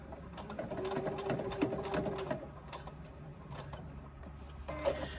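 A sewing machine stitches with industrial thread, pivoting and back stitching to lock the seam, a close rapid mechanical whir with short bursts and pauses, ending in a brief final run.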